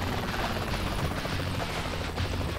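Military helicopter in Saints Row 3 Remastered on PS4, a loud continuous rotor roar with a dense low thrum that fills the whole moment and carries no talk over it.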